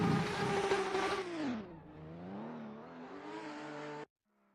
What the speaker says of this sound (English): Pavel is coming out here with that GTR.